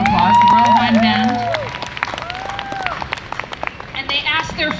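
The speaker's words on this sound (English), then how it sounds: "give them a round of applause, the Royal Hawaiian Band" An audience applauds the Royal Hawaiian Band with scattered clapping that follows some voiced, tonal sounds at the start and continues as irregular claps to the end, mixed with crowd noise.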